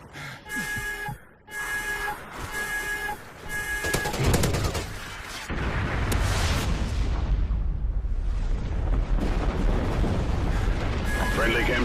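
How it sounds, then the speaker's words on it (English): Chem strike explosion in Call of Duty Ghosts multiplayer: game announcer voice and chiming alerts give way to a loud, sustained roaring blast and rumbling gunfire that fills the rest of the clip. "Friendly chem strike incoming."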